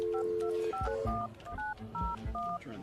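Telephone dialing tones play as a quick run of about ten short beeps in a steady rhythm, close and clear, with faint thumps underneath.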